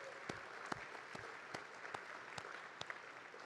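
Applause at an evening conference event for the team and crew, a moderate crowd clapping continuously with a few sharper individual claps standing out, heard from some distance.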